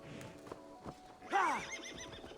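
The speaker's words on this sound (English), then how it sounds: "Sorry, white horse. I like the black one better." A horse in the video game Assassin's Creed Valhalla gives a short, loud neigh, with soft hoof clops before and after it, alone at close range.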